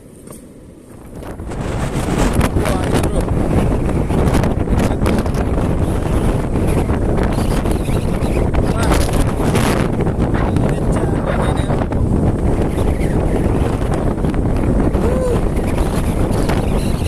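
Strong wind at sea buffets a fishing boat, a loud continuous roar and rumble of gusts against the microphone that builds up in the first two seconds and then stays constant.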